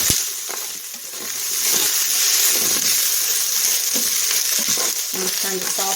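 Ground beef and soup ingredients sauté in an Instant Pot with a loud, continuous close-up sizzle and hiss, broken by occasional stirring scrapes and clicks.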